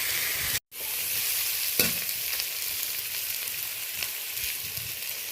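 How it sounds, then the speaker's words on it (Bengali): Vegetables with eggplant sizzle in a hot pan as they are sautéed, a steady bright frying hiss broken by a brief silent gap and a few stirring scrapes, with no voices. "যে কোনো তরকারিতে সবজিগুলো যদি একটু ভালো করে কষিয়ে নেওয়া যায়"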